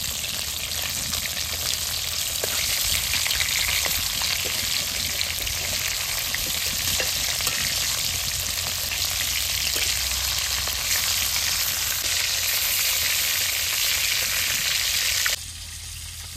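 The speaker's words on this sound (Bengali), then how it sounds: "এদিকে মাছও ভাজা হয়ে গেছে" Rohu fish pieces sizzle and crackle steadily in hot oil in a pan, a loud, continuous frying hiss lasting throughout, with no talk, before cutting to a quieter background near the end.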